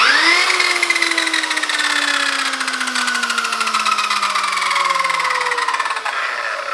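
A shrinking disc spins fast on a buffer against car bodywork, giving a steady loud whine that slowly falls in pitch as it runs.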